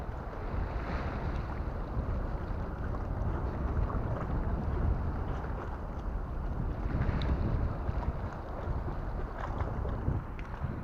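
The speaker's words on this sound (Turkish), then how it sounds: "Rüzgar çıktı ya." Steady wind buffeting the microphone outdoors at a waterside fishing spot, a constant low rumble with a faint wash of water beneath it and no talking.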